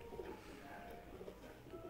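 Soft, low cooing of 22 pigeons murmurs faintly and steadily in Seelampur, several birds overlapping in a quiet, muffled setting.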